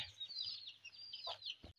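Chickens cluck and murmur nearby in a quick, wavering run of calls, fairly quiet, with no talking.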